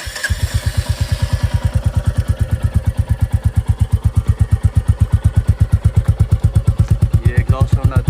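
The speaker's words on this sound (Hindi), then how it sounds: "इसका एग्जॉस्ट साउंड सुनाते हैं आपको।" Royal Enfield Bullet 350 of the 2024 standard vintage edition idling in neutral, its single-cylinder exhaust thumping in a fast, even, loud rhythm close by for several seconds, with a voice speaking over it.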